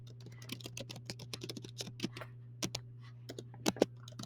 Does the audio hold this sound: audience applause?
no